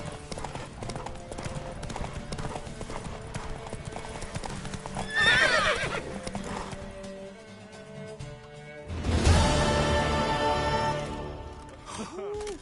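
Hooves clip-clop in a fast, steady gallop throughout, with a horse whinnying loudly partway through and background noise underneath, in the video game The Witcher 3: Wild Hunt.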